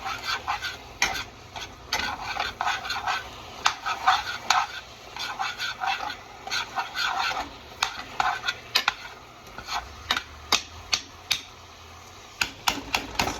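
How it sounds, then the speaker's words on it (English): Meat for nachos is stirred in a pan with a utensil, producing bursts of scraping and clattering against the metal over a light sizzle, then sparser sharp taps toward the end. "Stir your meat up regressively."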